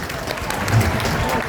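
Audience applause at a mushaira poetry gathering in Deoband, a steady mass of clapping over crowd murmur and a low hum, lasting about a second and a half.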